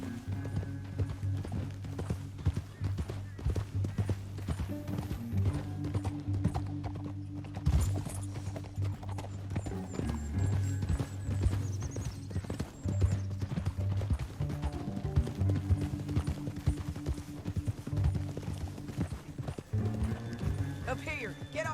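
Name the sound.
horses galloping, hooves clip-clopping, from video game Red Dead Redemption 2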